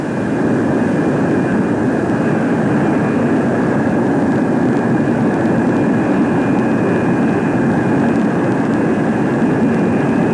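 A Convair F-102 jet fighter makes a high-speed taxi run on a runway, its engine giving off a loud, steady roar with a constant whine. The sound stays level throughout, with no voices.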